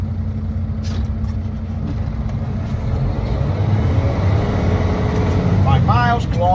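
A truck rolls slowly in low gear ahead of an air brake test, its steady low engine rumble filling the cab at close range while a person talks over it.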